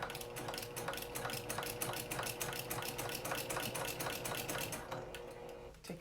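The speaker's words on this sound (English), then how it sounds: "make sure I'm sewing it slowly, because when you're using a walking feet, you don't want to push, you don't want to sew fast" A sewing machine with a walking foot stitches slowly and steadily while making an apron, a close, even mechanical chatter of regular needle strokes running for the whole stretch before stopping at the end.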